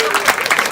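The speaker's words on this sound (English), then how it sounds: "Can we give them a round of applause?" Brief burst of applause from an audience at a talk event, clapping for Imran and Aisha, dense and steady throughout with a voice cutting through near the middle.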